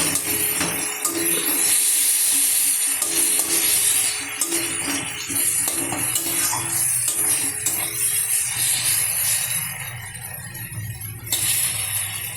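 Masala spice paste frying in oil makes a steady, close sizzling hiss that runs throughout, with occasional scraping and stirring noises against the pan.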